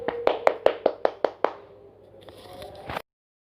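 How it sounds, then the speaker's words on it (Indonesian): Several sharp claps in a quick, even burst in a classroom, then fading room noise. Close and fairly loud, with no voices. "Mari beri tepuk tangan"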